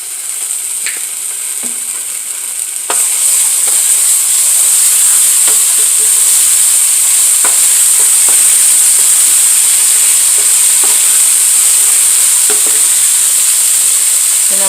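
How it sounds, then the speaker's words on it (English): Minced garlic hits a pot used for bacon and a loud hiss erupts at once, then holds as a steady close sizzle with scattered scraping stirs. "I'm adding some minced garlic."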